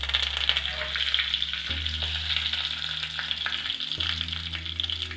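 Mustard seeds and curry leaves sizzle and crackle steadily in hot oil in a pan for idli sambar tempering, loud and continuous with no talk.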